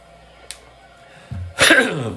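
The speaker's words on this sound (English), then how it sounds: "Clear my throat a little." A short, close throat clearing: a low rumble followed by a harsh, breathy rasp, heard once in an otherwise quiet room.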